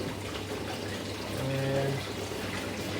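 Water turned on and running in a workshop build, a steady soft hiss of flow that swells slightly midway, with no one speaking.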